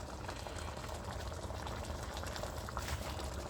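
Pumpkin seed and beef stew simmering in a covered-stove pot after hot water is added, a steady close bubbling and hissing boil with no talk.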